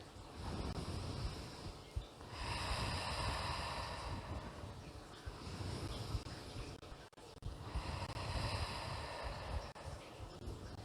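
Two slow, deep breaths taken close to the microphone while holding a hamstring and glute stretch, each a long airy swell of rushing air rising and falling, separated by a quieter pause.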